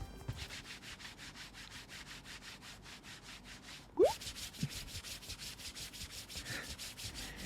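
A mouse rubbed back and forth on a Ninjutso NPC cloth mousepad makes a soft, even, rhythmic scratchy swishing, close and quiet, with one brief squeak partway through.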